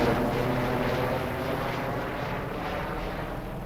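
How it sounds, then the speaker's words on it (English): A helicopter passes overhead in Farming Simulator 22, giving a steady, loud broadband rotor and engine roar with a faint rhythmic chop that holds for the whole stretch. "If you're playing long enough, then the helicopter flies over."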